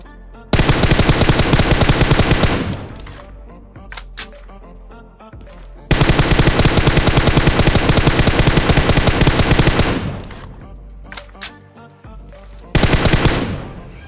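Automatic gunfire in a battle royale video game comes in three long, loud, sustained bursts of rapid shots, separated by quieter gaps with a few scattered single shots.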